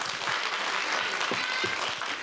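Cheering and applause from a small group of supporters at a kids' dance audition, a steady wash of clapping with a few voices rising above it throughout.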